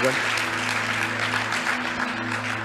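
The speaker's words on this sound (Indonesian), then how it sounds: "Berikan tepuk tangan buat Tuhan." A church congregation applauds during a sermon, a steady wash of clapping with sustained keyboard-like tones held underneath.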